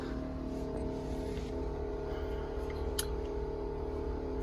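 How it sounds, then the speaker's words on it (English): Fire tender pump engine idling steadily with a strong droning hum, a brief sharp click partway through, then holding at a constant throttle; loud and close with no speech. "Starts the pump, chokes the pump, throttles up the pump to the appropriate discharge pressure."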